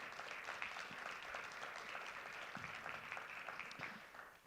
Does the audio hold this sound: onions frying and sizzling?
no